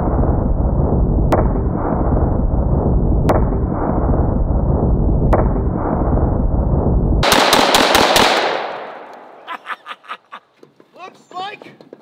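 Rapid AK-47 rifle fire shooting at pineapples and cabbages, a dense loud burst of automatic shots followed by sharp closer cracks and a few scattered pops as the firing trails off.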